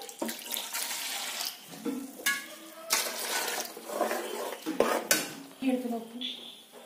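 Kitchen clatter of a pan and utensils as water is added to ground masala for Mangalorean pathrode, with a spoon scraping and stirring in bursts and brief splashy water sounds, close and fairly loud.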